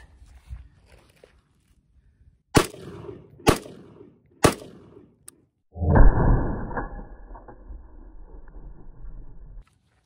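Three sharp rifle shots fired horizontally through JMAC Customs muzzle devices ring out about a second apart, loud and close, followed by a burst of scattering dirt and debris.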